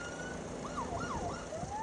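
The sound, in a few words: sheriff's helicopter siren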